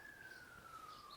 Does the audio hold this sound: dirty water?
no